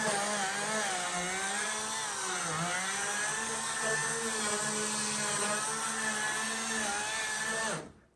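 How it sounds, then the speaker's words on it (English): A loud electric chainsaw whines steadily for about eight seconds, cutting rotten plywood from a boat transom, its pitch wavering slightly, then cuts off abruptly at the end. "an electric chainsaw was used to remove the rotten plywood"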